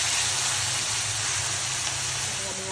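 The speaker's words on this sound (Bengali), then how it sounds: "দিয়ে এখন ভালো করে নাড়াচাড়া করে নিচ্ছি" Frozen yellow and green capsicum with onion and garlic sizzles steadily in a hot pan as it is stirred, a constant close hiss with a voice speaking faintly over it.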